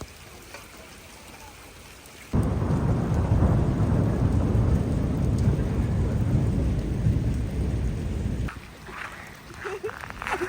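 After a quiet start, a heavy thunderstorm rushes in loud and dense, with rumbling thunder and steady rain for several seconds before easing toward the end, where faint voices appear.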